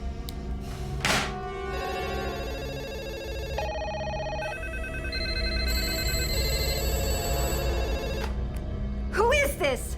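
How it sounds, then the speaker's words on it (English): A telephone rings in repeated electronic trilling bursts for several seconds, loud and close, with a few thumps and brief sounds around it. "the phone is ringing every 90 minutes."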